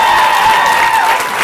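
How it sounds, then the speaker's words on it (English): An audience at a diversity monologue event applauds steadily, a dense and fairly loud wash of clapping that lasts a moment and has no voices over it. "let's give a round of applause for everybody and their participation"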